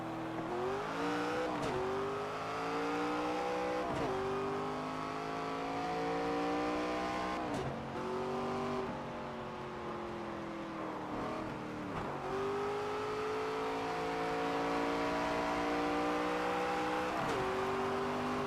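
Race car engines roaring around the track in NASCAR 25, a steady high-pitched drone rising through gear after gear with repeated shifts, loud and continuous with no talk.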